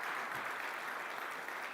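Audience applause for conference staff at a summit keynote, a steady dense wash of clapping that holds evenly throughout without voices.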